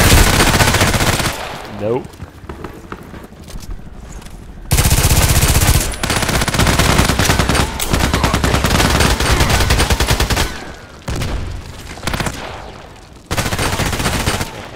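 Kedr SMG fired in the video game Contract Wars, with loud, close shots packed into sustained blocks of fire separated by brief pauses, and a short spoken word in one gap.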